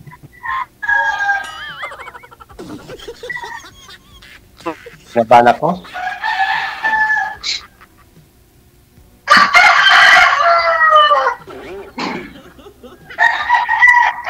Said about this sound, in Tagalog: Dami na ditong manok, sir.